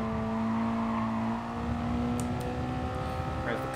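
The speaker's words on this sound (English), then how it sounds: "Rev the car out as much as you can up the hill" A race car's engine drones steadily while revving uphill in the GT Sport racing video game, the sustained tonal whine holding at a constant moderate level throughout, with faint clicks near the end.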